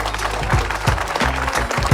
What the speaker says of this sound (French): Damien Le Fustec, on l'applaudit très fort